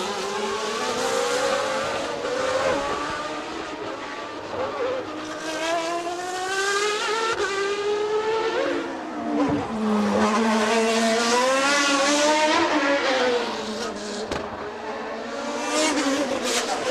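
A 1990 Formula 1 car at the US Grand Prix loses its rear end at a corner apex and slides wide off the track, its loud engine wailing and rising and falling in pitch for a sustained stretch, with tire noise and no talk.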